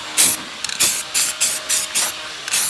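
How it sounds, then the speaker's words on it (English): Rust conditioner sprayed in short, loud hissing bursts onto the underside of a rusted 1970 Dodge Challenger, about seven bursts of uneven length from close by. "Shoot some rust conditioner on there"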